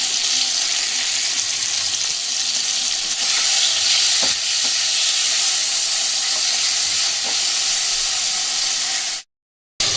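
Tomatoes fry in a pan after salt is added, with a loud, continuous, hissing sizzle and a few soft stirring taps. The sound cuts off abruptly near the end, and no one talks.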